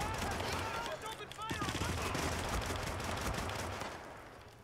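Rapid gunfire erupts in a Hitman video game during a firefight on a staircase, bursts of automatic shots crackling close and loud after a short shouted voice, continuing in a dense volley that gradually tapers off.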